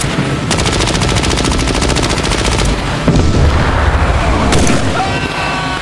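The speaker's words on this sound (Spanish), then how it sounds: "la tropa despertó por el ruido de las ametralladoras," Rapid machine gun fire rattles continuously, broken by heavy booming mortar explosions, loud and dense throughout with no pauses.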